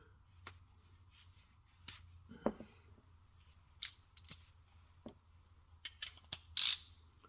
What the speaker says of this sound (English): Now you want to tighten these three bolts.